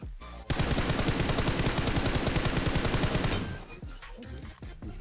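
Sustained automatic gunfire in the mobile battle royale game PUBG Mobile, a loud, rapid unbroken burst of shots lasting about three seconds before fading into quieter game sounds.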